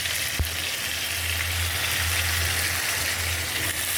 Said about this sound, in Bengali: মশলাটা তো তেলের একটু ভাজা ভাজা করে নেই।